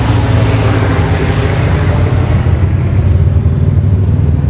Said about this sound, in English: Look, another plane.